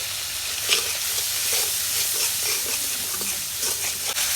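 Spices with turmeric sizzle and hiss as they are sautéed in a pan, a steady close frying sound punctuated by light stirring scrapes.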